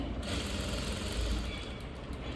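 A sewing machine runs loose stitches along a blouse in one steady, continuous mechanical whirr, close and even throughout with no pauses and no voices.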